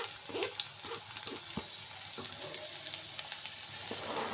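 Onions fry in a pan for paneer fried rice, a soft, steady sizzle broken by light stirring taps and scrapes, fairly quiet and close, with no one talking.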